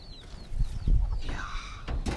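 Chickens on a farm in Barbados give a short burst of low clucking and fowl calls, fairly close, with a few rustles and knocks in the pen.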